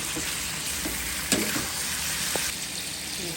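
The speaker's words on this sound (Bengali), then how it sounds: "গোটা কাঁচামরিচ, টমেটো সব একসাথে দিয়ে দিলাম। নেড়ে" Green chillies and tomatoes stir-fried together in a frying pan for tomato chutney, a steady close sizzle with a few soft clicks of the spoon against the pan.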